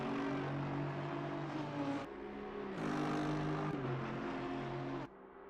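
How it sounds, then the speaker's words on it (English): Loud, throaty race car engines in the racing game Assetto Corsa Competizione at Monza roar steadily with harmonic whine, pitch shifting as cars change gear, with no voices. "It's a lovely throaty sound those cars have."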